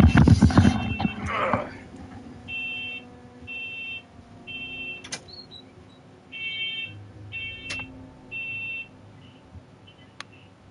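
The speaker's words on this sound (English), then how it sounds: "what the mysterious beeping in his house is" Mysterious beeping inside a house: a repeated electronic tone in evenly spaced short bursts, moderately loud, following a brief burst of other noise at the start and continuing with low background sound.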